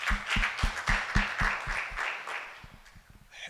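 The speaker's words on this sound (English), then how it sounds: "We can clap for him again." Audience applause at a protein summit, with a steady patter of many hands clapping close to the microphone for about three seconds before thinning out into scattered claps.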